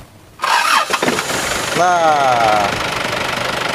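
A 2002 Isuzu Panther 2.5-litre diesel pickup cranks with a loud whirring starter, fires up and settles into a steady, clattering diesel idle heard up close in light drizzle, with a brief word spoken at the start.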